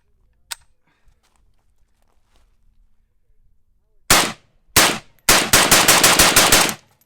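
An AK-47 rifle firing outdoors during a reliability torture test: two single loud shots, then a rapid string of about eight more, for ten rounds in all. Quiet handling noises come before the shots.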